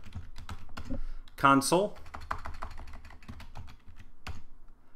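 Typing on a computer keyboard while entering commands at a Windows command prompt: rapid, irregular key clicks run steadily throughout, close and fairly quiet, beneath a voice that speaks briefly in the middle.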